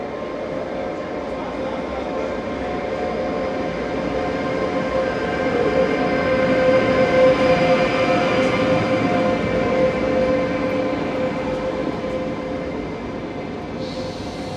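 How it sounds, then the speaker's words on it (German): A Greek Intercity train pulls into Thebes station on the Athens line, a steady rumble and hum building, peaking mid-approach, then easing, with a faint steady tone and brief voices in the background. "Unser Zug fährt ein."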